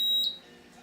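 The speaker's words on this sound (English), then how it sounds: "we actually hear the buzzer come on." A high, steady electronic tone from the buzzer on an Arduino infrared sensor circuit, a clear piercing beep that sounds briefly and then fades.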